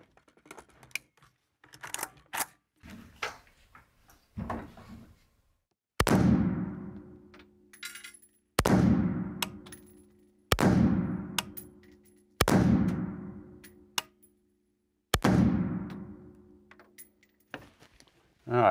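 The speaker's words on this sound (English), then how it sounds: "Let's shoot our first group just to see where we're landing on target" Zastava PAP M90 5.56 rifle fired on a range: five loud, sharp shots spaced a couple of seconds apart, each with a ringing decay, preceded by softer handling clicks and rattles.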